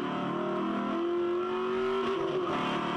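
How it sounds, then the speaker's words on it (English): A V8 ute race car at Symmons Plains screams at high revs, its engine note climbing and holding near the rev limiter in a loud, continuous race-track roar. "Andrew Fisher takes this car right to the extreme. Bounces on the rev limiter"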